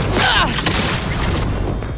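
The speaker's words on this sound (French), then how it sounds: "Je l'attaque au fusil à pompe!" A shotgun fires in the game Cyberpunk 2077, with a booming blast and a crackle of combat noise. The shots sit inside a continuous dense wash of game sound while a player talks excitedly over it.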